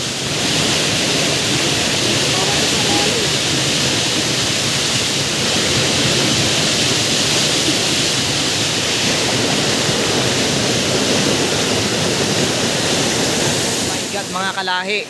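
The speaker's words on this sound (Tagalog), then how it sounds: "Ganda na mga tulo-tulo, no? Habang tumatagal, parang mas lumalakas." Water dripping and rushing in a steady, loud, broad wash that stays constant throughout, close and enveloping, with a brief voice heard faintly at the very end.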